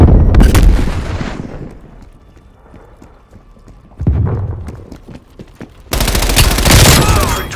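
In the video game Call of Duty Black Ops Cold War, a Semtex grenade detonates as a loud, close explosion, part of a sequence of heavy blasts and booms separated by quieter rumbling stretches.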